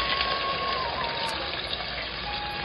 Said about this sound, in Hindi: फिर इसमें हम पानी डाल देंगे.